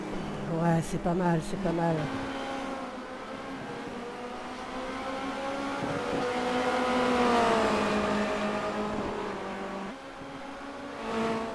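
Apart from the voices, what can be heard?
Formula Renault 2.0 race car accelerating at full throttle, Zandvoort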